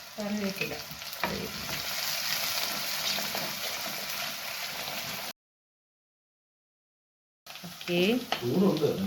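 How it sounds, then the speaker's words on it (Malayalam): Mustard seeds, ginger, garlic, shallots and green chilli sauté in hot oil with a steady close sizzle and stirring. The sound cuts out briefly, then returns louder with vigorous stirring. "കടുക് പൊട്ടി അതിലേക്ക് ഇഞ്ചി വെളുത്തുള്ളി ചെറിയ ഉള്ളി ചെറിയ ഉള്ളി പച്ചമുളക് നല്ലതുപോലെ വരട്ടിയെടുക്കാം"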